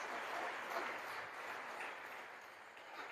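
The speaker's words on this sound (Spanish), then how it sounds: "denle un aplauso al Señor" Church congregation applauding the Lord during an evening service, a steady wash of many hands clapping that holds for the whole stretch, fairly faint and even, with no voices over it.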